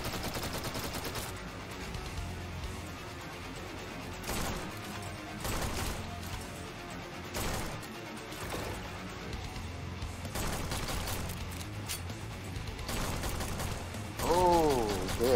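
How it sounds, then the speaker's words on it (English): Sustained gunfire from the shooter game Forgive Me Father 2, dense overlapping shots and mechanical clatter running steadily throughout, with a louder burst near the end. "Stop shooting me in the face."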